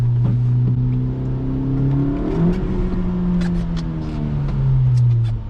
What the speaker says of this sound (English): there was a second gear pull at about 25 miles an hour, and it slipped a little bit once it really got up there and boost